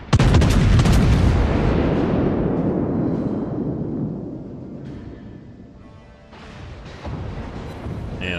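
A Scharnhorst battleship's guns fire a heavy salvo of HE shells in World of Warships: one loud, booming blast that rumbles and slowly fades over several seconds, followed by softer distant thuds.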